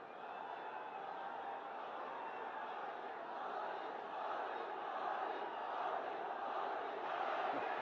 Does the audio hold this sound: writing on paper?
no